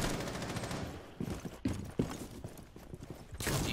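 Gunfire in the video game Rainbow Six Siege, bursts of rapid shots with irregular sharp cracks over a busy, noisy game mix, fairly close and loud, with no clear voices.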